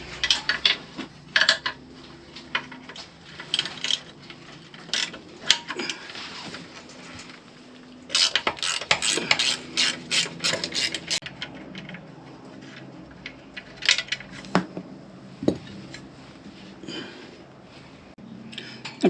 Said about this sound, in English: I've undone that one, that one. Just got to finish off undoing those header ones.